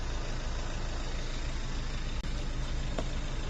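A Fuso truck engine idles steadily while warming up, a constant low rumble with a brief dropout partway through and no talking.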